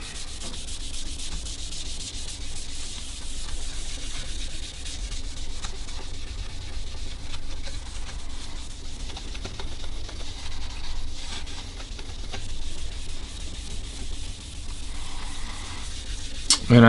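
A cloth rubs orange dye onto a quilted maple guitar top in a steady continuous scrubbing, close and even throughout without speech.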